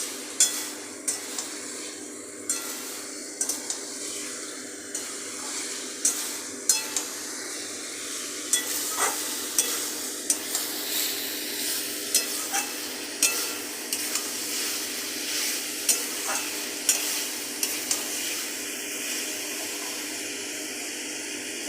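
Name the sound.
stir-frying fried potatoes in soybean curry masala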